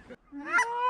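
Canada geese honk close overhead during a hunt, one or two short nasal calls in quick succession.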